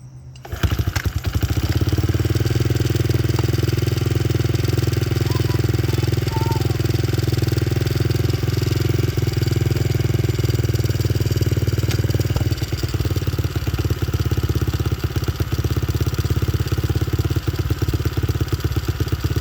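A Honda XR70 motorcycle fitted with an 88cc big bore kit kicks over and starts at once, then settles into a loud, steady, close-up idle with a faint mechanical clatter.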